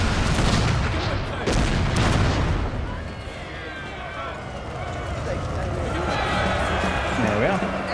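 Cannon and musket fire from a Napoleonic battle in Total War: Napoleon booms and crackles in bursts, loud at first and then fading to distant rumbling, with a voice talking over it.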